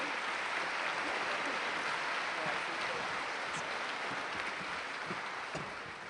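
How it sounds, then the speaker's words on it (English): A large hall at the Labour Party Conference in Liverpool rings with an even, continuous wash of applause for the platform, fairly soft and unbroken from start to finish. "if we could give our platform a round of applause"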